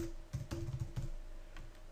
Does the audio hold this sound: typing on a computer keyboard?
yes